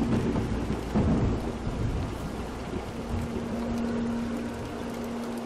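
Steady heavy rain with deep rolling thunder fills a scene in the video game Montague's Mount, a dense continuous roar with a low hum underneath.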